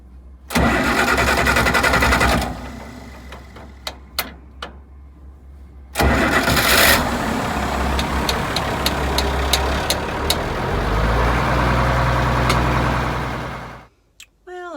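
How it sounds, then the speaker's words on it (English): Baler tractor on a sheep dairy farm cranks and struggles to start during hay cutting, with long loud starter cranking bursts, a few sharp clicks, then a rough rumbling engine run that dies away near the end. "first the tractor wouldn't start"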